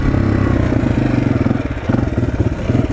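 A Suzuki DR-Z 125L dirt bike rolling in second gear, its small single-cylinder engine thrumming loud and close with a rapid pulsing beat that dips and rises as the throttle changes.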